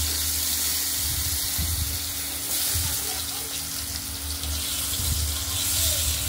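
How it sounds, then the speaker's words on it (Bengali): Potatoes fry in hot oil seasoned with black cumin, cardamom, bay leaf, cinnamon and cumin, giving a steady, close sizzle with a watery hiss that holds level throughout. "আলুগুলো ভাজা হোক, তারপর মশলা দেব।"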